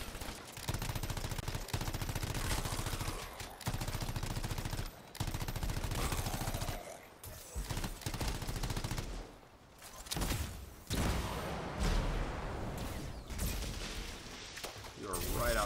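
Heavy enemy gunfire in the video game Anthem rattles in rapid, dense volleys and near-constant bursts, broken by a few short gaps. Someone talks over the shooting.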